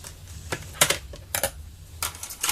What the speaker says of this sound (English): I'm just going to take my Spellbinders scissors.